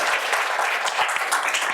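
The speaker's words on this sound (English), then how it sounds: "Now, no more applause, right?" An audience at a Massachusetts Governor's Council 3rd District debate claps in a brief, dense burst of applause that stays loud and even from start to finish.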